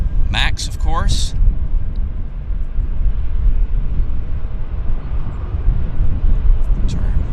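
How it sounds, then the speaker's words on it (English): Air Canada Boeing 737 MAX taxiing onto the runway at Vancouver airport, a steady broad engine rumble running the whole time, with a brief voice near the start. "Air Canada 548 to Newark, taxiing onto the active right now."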